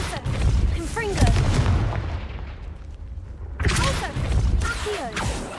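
A Confringo blasting curse explodes in Hogwarts Legacy, with a loud boom and bursts of crackling impact noise amid busy combat sounds. A second burst follows after a brief quieter gap, and whistling spell effects sound throughout.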